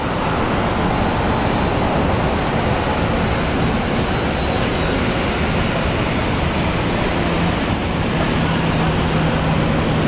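Air New Zealand airplane at Brisbane International Airport: a loud, steady broadband jet roar filling the whole stretch with little change, heard alone without voices.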